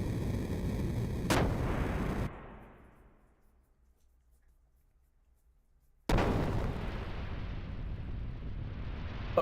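Heavy artillery booms from a warship's guns in the Xenogears video game, with a loud blast, a long rumbling decay into near silence, then a second abrupt burst of sustained roaring noise.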